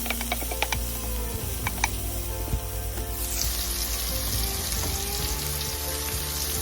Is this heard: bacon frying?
yes